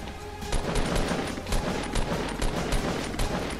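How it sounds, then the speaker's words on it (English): Rapid bursts of gunfire in the battle royale video game Fortnite, loud and close, with sharp shots repeating every half second or so over a dense layer of game noise. "Where's the shooting?"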